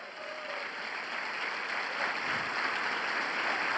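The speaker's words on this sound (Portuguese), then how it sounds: "Dê uma salva de palmas ao Senhor" A church congregation claps in praise to the Lord during an anniversary celebration service, with a steady wash of applause that swells slightly and holds, heard at a moderate distance under a faint steady hum.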